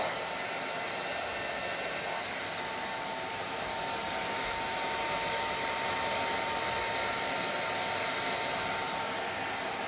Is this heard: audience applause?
no